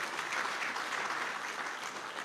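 Applause from an audience at an awards night, dense steady clapping close by throughout, with no voices over it.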